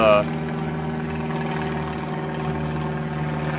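Steady droning of an airplane passing overhead at an outdoor range where an 1860 Army black powder revolver is being shot, a continuous even engine hum lasting throughout under a brief voice at the start.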